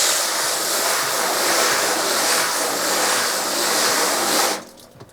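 Water sprays steadily onto the ink side of a screen-printing screen for making transfers, a continuous hissing wash that cuts off abruptly near the end.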